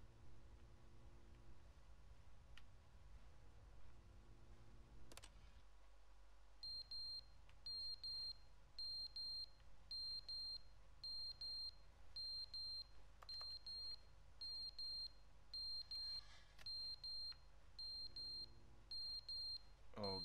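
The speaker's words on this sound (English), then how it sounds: "Where's the fire alarm" A fire alarm in The Stanley Parable video game beeps in a steady rapid pattern of short, high electronic tones, repeating in regular bursts over a quiet humming room background.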